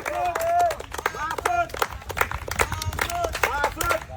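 A village crowd gathered around a balancing game on an oiled banana tree claps and cheers, the applause rising and falling beneath a loud announcer's voice talking over it.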